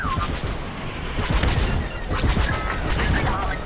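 Starfighter blaster fire in Star Wars: Squadrons, loud repeated rapid zaps and bursts in dense clusters, layered with explosive booms and cockpit noise.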